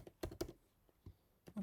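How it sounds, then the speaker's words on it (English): A few quiet keystrokes on a computer keyboard: short, sharp clicks in an uneven rhythm, close up and alone. "So I'm just typing."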